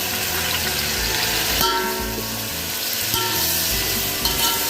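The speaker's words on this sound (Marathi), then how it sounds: "टोमॅटो छान तेलात भाजायचा आहे" Chopped tomatoes fry in hot oil over roasted spices for a village-style veg biryani, giving a steady, moderately loud sizzle with a few stirring scrapes and a sustained tonal backdrop throughout.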